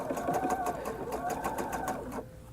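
A home sewing machine stitches a wrap dress in a steady, fast, rhythmic whirr of close needle strokes, with someone talking over it, until the motor stops near the end.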